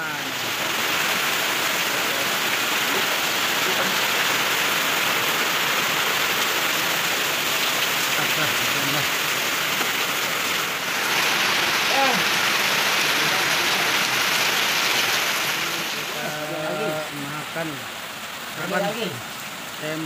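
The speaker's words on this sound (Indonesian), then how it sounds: "Hujan." Steady, dense rain hisses loudly throughout, with brief muffled voices breaking in near the end.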